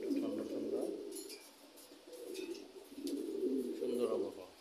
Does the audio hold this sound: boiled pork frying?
no